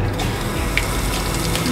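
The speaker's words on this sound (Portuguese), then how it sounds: "Tá saindo água embaixo do carro." Water gushes steadily out from under a van after a pipe came loose in cold weather, a continuous loud rushing spray with faint clinks and no talking.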